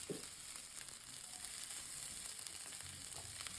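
Burmese fried rice with boiled peas fries in a pan with a steady, quiet sizzle, broken by occasional faint stirring scrapes.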